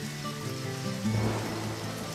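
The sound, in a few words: rain in video game Deadly Premonition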